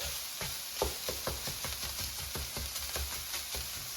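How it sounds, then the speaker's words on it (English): Garlic and ground turkey sizzle and fry in a pan for a turkey bolognese. A spoon scrapes and stirs in a steady, quick rhythm of soft clicks over the constant frying hiss, close up and with no talk. "I'm just going to mix this so it's all evenly distributed, and garlic starts to cook as well as I'm mixing"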